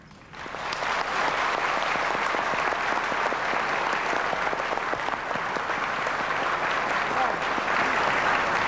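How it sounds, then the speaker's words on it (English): Steady audience applause at an evening ceremony in Honolulu, Hawaii, rising quickly after a brief start and then holding as a dense, even clatter of many hands throughout. "Please, a big round of applause."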